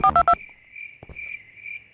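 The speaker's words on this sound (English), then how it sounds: "I need to make a phone call to someone." Three quick, loud dial tones beep in a row on a phone, then a faint steady ringback tone follows with a couple of soft clicks.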